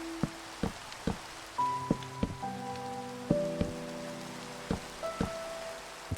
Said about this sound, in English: It started raining, so I built a little roof over my bed.